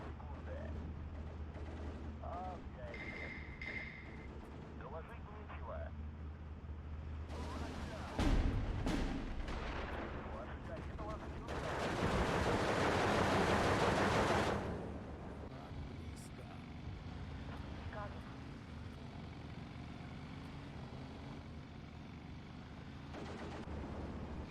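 50mm mortars firing in the WWII strategy game Steel Division 2, with a sharp launch thump followed by a louder, longer explosive burst over a low rumbling battlefield bed and scattered distant gunfire.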